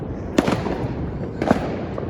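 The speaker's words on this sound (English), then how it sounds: "Fireworks are everywhere tonight." New Year's Eve fireworks in El Salvador bursting around a mountain national park, two sharp booming explosions about a second apart over a continuous crackling background of distant fireworks.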